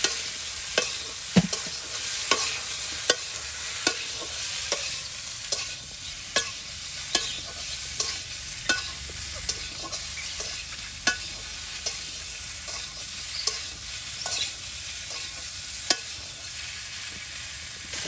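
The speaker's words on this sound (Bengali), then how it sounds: "এই যে তেলে কিন্তু এখন সেই ছোটো ছোটো কেটে নেওয়া কুমড়োর টুকরোগুলো দিয়ে ভেজে নেওয়া হচ্ছে" Small cut pieces of ripe ash gourd (pumpkin) frying in oil for a village-style sweet, with a steady sizzle and regular scraping stir strokes about every second, close and continuous with no talk.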